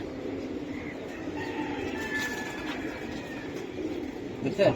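Giribaz highflyer pigeons coo softly in a steady background murmur, with someone talking over them throughout as the birds are shown for sale.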